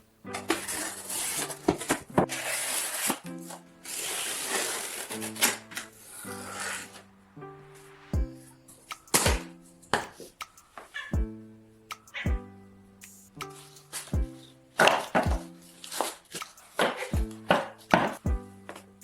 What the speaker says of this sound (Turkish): Bir karton kutuyu aynı genişlikte ve uzunlukta özdeş şeritlere kesin.